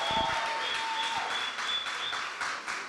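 Sustained audience applause at a welcome reception in Cape Town, a dense, steady wash of clapping that holds at even loudness for the full three seconds, with no one speaking over it.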